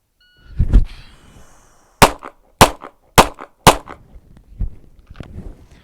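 Pistol gunfire during a timed shooting drill: four sharp, loud shots in quick succession, preceded by a metallic handling clatter and followed by fainter knocks, with no speech.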